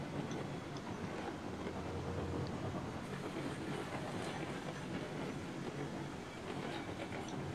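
Freight train rolling along rails in the video game Railroads Online, a steady rumbling clatter of wheels that continues evenly at moderate loudness with no voices.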